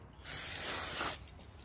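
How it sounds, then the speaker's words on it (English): A single sustained aerosol spray of brake cleaner onto motorcycle brake calipers hisses for about a second, close by, with a faint mechanical click at the start. "I've just got some brake cleaner"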